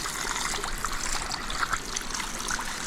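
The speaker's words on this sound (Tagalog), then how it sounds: "Running water yan." Natural spring water running steadily in a continuous soft trickle and babble, close by and fairly quiet with no other sounds.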